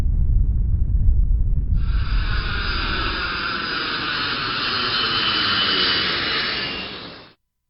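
A jet airliner engine roars up for a flight departure: steady, loud broadband rushing noise swells in after a low rumble and holds for several seconds before cutting off abruptly.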